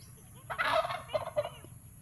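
A turkey gobbles nearby in a short rapid burst of rattling calls, followed by a couple of brief softer notes, heard alone over a faint background.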